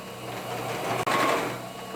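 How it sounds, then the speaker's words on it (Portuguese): A sewing machine stitches the bottom of a fabric bag, a close, steady mechanical whir that pauses for a split second midway, then resumes. "Então eu vou colocar aqui e já costurar o fundo também."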